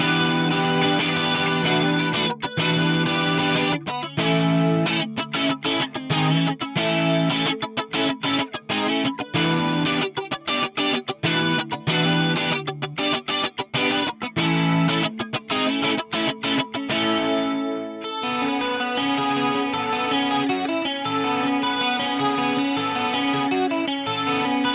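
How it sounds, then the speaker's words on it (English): Electric guitar played through the GFI Synesthesia modulation pedal on its standard chorus setting, with a traditional analog-style wobble; continuous strummed and picked notes shimmer with lush modulation, loud and up close, with no talking. "The standard chorus has a little bit more traditional wobble and sounds like a typical analog"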